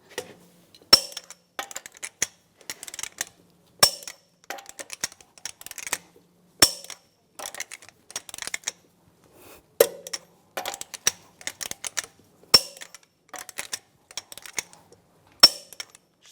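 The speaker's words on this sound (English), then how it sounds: "Now we're going to torque the lug nuts to 140 foot-pounds in a cross pattern to tighten the wheel down" A torque wrench tightening lug nuts on the front wheel of a 2007-2014 Cadillac Escalade ESV gives short bursts of sharp, close ratcheting clicks separated by brief pauses, with no voices.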